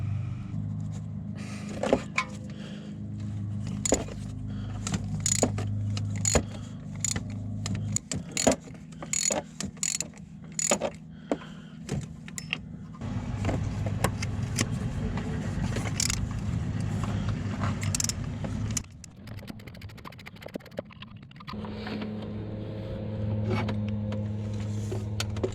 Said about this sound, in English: removing 4 bolts holding on the exhaust side of the turbo